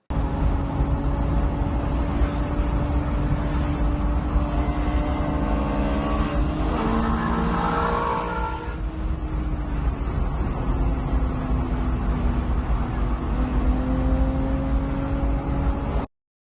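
A Retro Mod Ford Bronco drives on a track during a run that ended in catastrophic engine failure. Its engine drones loudly with rising and falling pitch under constant wind buffeting, sounding as if recorded from inside the cab.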